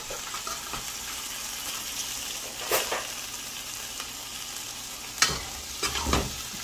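Aloo (potato) curry frying and being stirred in a pot for a Guyanese-style meal, with a steady low sizzle and a few louder scraping stirs near the end, close by and with no talking.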